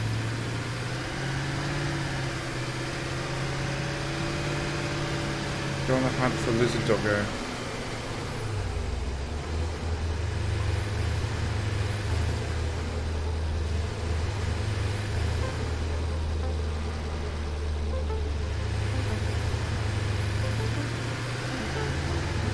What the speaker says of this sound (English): Get back in the tractor.